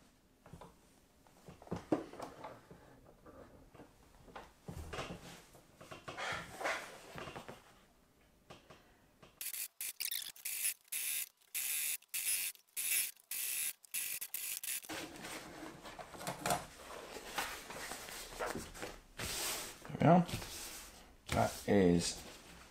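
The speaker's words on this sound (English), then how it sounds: "This time, however, I'm going to put in a back stitch as well on this point." A sewing machine back-stitches a waxed canvas peg bag, running in a fast burst of rapid, evenly spaced stitching pulses before and after short stops, close and fairly loud, with someone talking at the start.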